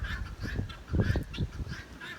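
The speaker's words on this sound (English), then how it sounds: "And my birds are kind of flocking over here." Domestic geese-like birds honk repeatedly as they flock together outdoors in gusty, darkening weather, a busy overlapping chorus of nasal calls close by with no speech.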